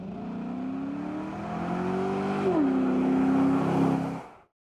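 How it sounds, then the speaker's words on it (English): A car engine fitted with a cold air intake revs up alone, a steady throaty drone climbing in pitch, dipping briefly, then holding high before cutting off abruptly. "The throaty, aggressive sound lets you know that there is power to be unleashed at the push of a pedal."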